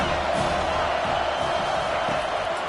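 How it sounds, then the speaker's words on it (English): Football stadium crowd at a West Virginia versus TCU game, a loud, sustained roar of cheering fans rallying behind the defense before a third down, with a commentator's voice faintly mixed in. "Big third down as the crowd gets behind this defense."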